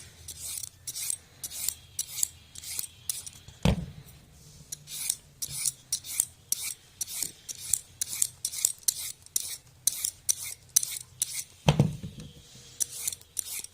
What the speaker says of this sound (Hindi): ऐसे हमने सारे खीरे जो हैं इस तरह से छील लेने हैं ऊपर से